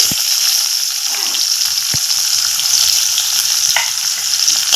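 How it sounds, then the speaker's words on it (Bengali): Chopped onion and whole cumin frying in oil in a kadai, a loud close sizzle that hisses steadily, broken by occasional clicks and scrapes of a spatula stirring, with no voices. "পেঁয়াজটা একটু লাল করে ভেজে নিব"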